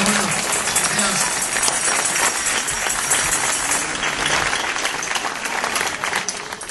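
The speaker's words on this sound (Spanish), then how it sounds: "Con un aplauso para ellos dos, hombre" Audience at a folk festival applauding two performers of a regional song-and-dance group, a dense steady wash of clapping throughout with voices mixed in.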